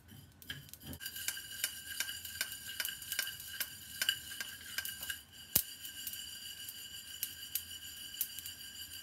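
Mustard seeds pop and crackle in a hot pan for a cabbage garlic pickle, sharp irregular ticks and clicks with a spoon stirring, close and fairly loud, no talking.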